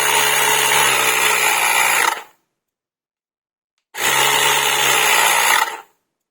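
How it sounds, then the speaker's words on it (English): An Ultimate Speed USKT 60 B2 portable cordless air compressor runs in two loud, steady buzzing bursts of about two seconds each, separated by a short silence. "So let's start the compressor and see how it handles"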